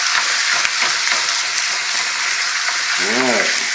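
Cubed meat stir-frying in a pan for pansit sizzles loudly and steadily up close, with scraping stirs and a brief tonal scrape near the end.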